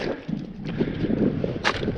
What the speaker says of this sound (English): I'm sorry if it's windy. I'm trying to block that wind